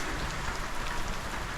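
Steady rain falls overnight at Nindigully pub, Queensland's oldest pub, a continuous close hiss of drops on surfaces with no voices.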